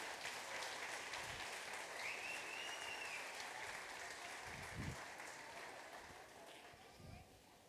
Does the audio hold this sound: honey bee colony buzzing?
no